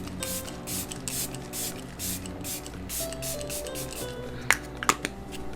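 Makeup setting spray mists from a pump bottle in a rapid series of short, close hisses, followed by a few soft clicks near the end.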